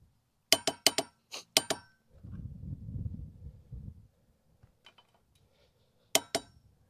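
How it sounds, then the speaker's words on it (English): A Milwaukee 1/2-inch 250 ft-lb click torque wrench gives several sharp, close clicks in a quick burst, followed by a low rumble of handling noise and one more crisp click near the end. "So an even more pronounced click and feel. Very solid feel on this torque wrench."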